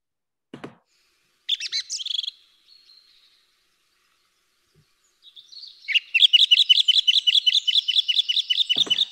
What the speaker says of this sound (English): let's hear what a bird song looks like in a spectrogram